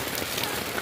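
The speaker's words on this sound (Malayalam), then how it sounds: "അല്ലേ മഴ." Steady rain pours down in a dense, even hiss with no pauses, close and fairly loud, drops pattering on a surface.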